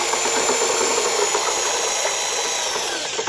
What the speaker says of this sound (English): make sure that the drill goes all the way to the bottom of the bucket,